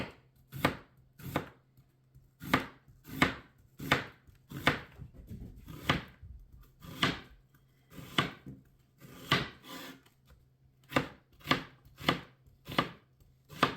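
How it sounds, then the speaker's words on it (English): A knife slices an onion into thin slices on a cutting board, about twenty crisp, distinct cuts in a steady rhythm, close and clear, with no talk. "this is the proper way to cut an onion if you're just doing slices and you're not dicing the whole thing"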